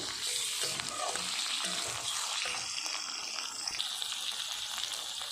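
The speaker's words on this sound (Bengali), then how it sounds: "ভালো করে আমি কষিয়ে নিচ্ছি" Meat sizzles steadily in a pan as it is fried and stirred for a Bengali meat curry, a continuous broad hiss with scattered scraping clatters of the spatula, close and fairly loud, with no voices.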